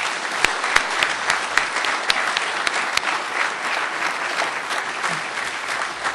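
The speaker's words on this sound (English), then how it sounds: "So please give them a round of applause." A graduation ceremony audience claps for department staff, a steady wash of applause with a few sharp individual claps standing out near the front, continuous for several seconds.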